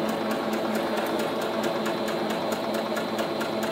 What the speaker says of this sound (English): there's little feet inside the machine that guide at a certain speed and feeds the material along